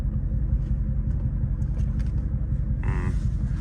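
A Dodge Charger Scat Pack engine held at full throttle gives a loud, steady, deep rumbling drone that rises into a brief harsher burst near the end, with no talking.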